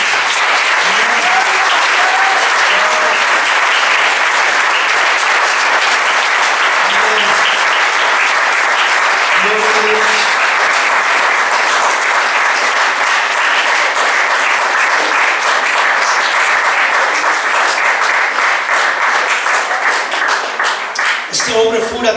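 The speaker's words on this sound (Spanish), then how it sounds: "Den un fuerte aplauso al Señor." A church congregation applauds loudly, a sustained dense wall of clapping that fills the whole stretch, with a few voices and cries rising over it near the start and a brief louder burst at the end.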